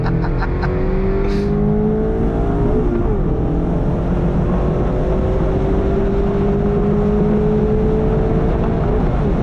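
A 2022 Mazda MX-5 Miata Club accelerates on throttle from inside the cabin. The loud engine tone rises smoothly and continuously over a dense rumble of road and wind noise.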